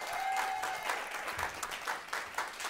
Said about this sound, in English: So, a round of applause for David.